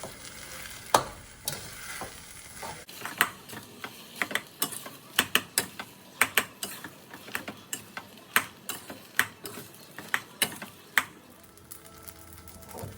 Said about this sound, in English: Stir everything well in a wok.